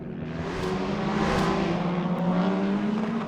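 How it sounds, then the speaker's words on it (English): A Porsche race car at the 6 Hours of Fuji endurance race roars past over the brow of a hill, its engine note rising then easing as it sweeps by at moderate distance, heard alone. "Here comes the Porsche over the top of the brow."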